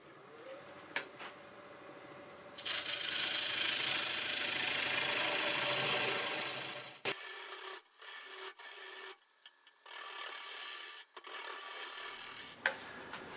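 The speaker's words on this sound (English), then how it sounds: "Let's go ahead and flatten this and get a tenon on here." A wood lathe turns English walnut while a tool flattens the face and cuts a tenon, giving a loud rough scraping hiss for several seconds, then stopping and giving way to short intermittent cuts and quieter gaps.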